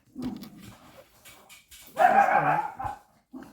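Dogs bark at close range in a house, a couple of short yips and whimpers followed by one loud sustained bark burst, then silence and a last small yelp.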